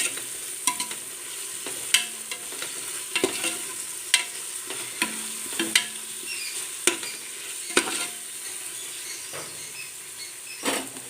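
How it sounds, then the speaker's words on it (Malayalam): Curry leaves and coriander leaves sautéing in a pan, a soft sizzle broken by repeated sharp spatula taps and scrapes at an irregular pace, heard up close without speech. "രണ്ട് തണ്ട് കറിവേപ്പില ഇട്ട് കൊടുക്കാം അതുപോലെ തന്നെ ഒരു പിടി മല്ലിയിൽ ഇട്ട് നന്നായിട്ടൊന്ന് വഴറ്റിയെടുക്കാം"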